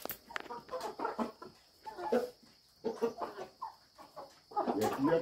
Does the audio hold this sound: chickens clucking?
yes